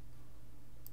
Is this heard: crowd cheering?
no